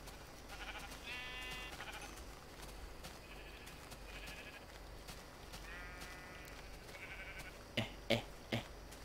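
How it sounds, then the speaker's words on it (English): Sheep bleat several times over steady background noise in the video game Minecraft, short buzzy calls scattered across the clip, followed near the end by a few sharp clicking thuds. "Look, there's so much sheep."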